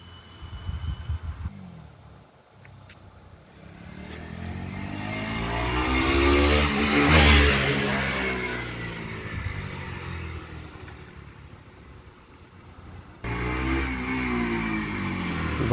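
A KTM Duke 200 motorcycle engine revs up to a loud peak and falls back, then catches again near the end, heard close with no talk.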